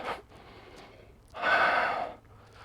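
Deep breathing during a sweaty yoga session: a short sharp inhale, then after a pause a long, loud exhale lasting about half a second, close to the microphone.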